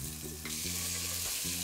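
Pancetta frying in a pan for a traditional Italian dish, a steady broadband sizzle with stirring, close and continuous with a low hum beneath.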